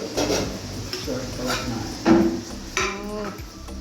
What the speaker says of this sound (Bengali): বিরিয়ানি হাঁড়ি আটকে গেছে রে